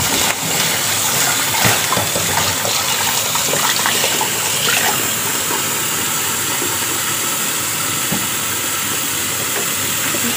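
Meat rinsed under a running tap to remove fat and dirt while preparing a Chinese herbal soup: a steady, loud hiss of flowing water throughout, with faint clatter of handling.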